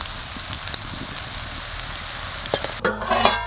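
Cumin seeds sizzle steadily in hot ghee, a close, even crackle that fills the pan sound, briefly joined near the end by a louder burst of frying noise and a murmured voice.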